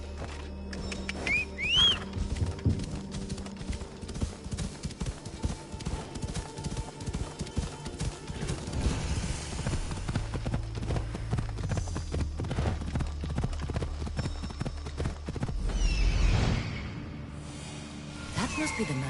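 Horse hooves clip-clop at a gallop in the video game Assassin's Creed Odyssey, a fast, steady rhythm running through the scene under faint game ambience and brief effects, with a short whinny near the start.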